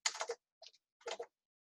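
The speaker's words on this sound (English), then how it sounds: "sorry about my typing" Quick bursts of typing on a computer keyboard during a lecture, three short clusters of soft clicking keystrokes with silent gaps in between.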